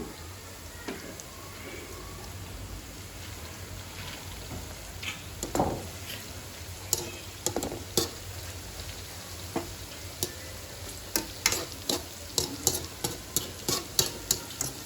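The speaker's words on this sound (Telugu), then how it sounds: "బాగా వేగాలండి ఇవి, బాగా వేగాలి" Brinjal pakoda coated in gram flour batter frying in hot oil, a steady close sizzle with scattered stirring clinks that grow more frequent toward the end.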